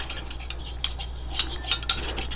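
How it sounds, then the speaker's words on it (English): A utensil clinks and scrapes against a container while a facial cleansing oil mixture with solubilizer and sodium lactate is stirred, a few faint, light taps over a quiet background. "You need to really mix this very well to ensure the solubilizer has worked."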